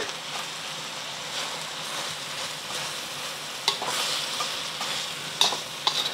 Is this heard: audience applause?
no